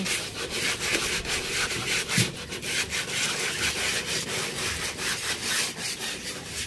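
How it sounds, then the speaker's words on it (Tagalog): Sandpaper rasps over the wooden hull of a motorboat in quick repeated back-and-forth strokes, a rough, scratchy rhythm that stays close and steady throughout. "Yan po't nililihan na ni na tatay."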